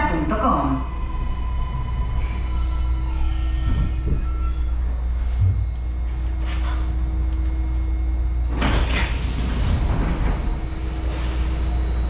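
A MARTA subway train rumbles loudly with a steady low drone, brakes squealing briefly, then a burst of clatter like doors sliding near the end.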